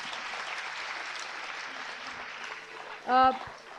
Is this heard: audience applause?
yes